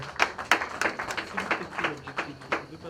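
Audience applause at a celebration of African writers, a few scattered claps at an irregular pace, fairly sparse and moderately close, with no talk over them.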